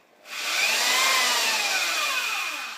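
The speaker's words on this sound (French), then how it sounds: "Gentiment avec la perceuse au niveau des ailettes, toujours dans le sens du métal, et ça nettoie bien le moteur." A power drill with a brush whirs steadily with a harsh, brushing hiss as it scrubs the metal cooling fins of a Honda Dax 70 ST engine, starting abruptly and holding for a couple of seconds.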